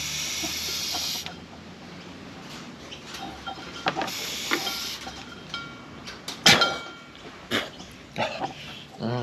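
Breath is blown through a small carburettor part from a YZ85 dirt bike, giving breathy airy hisses in several bursts with scattered clicks and handling noises close by.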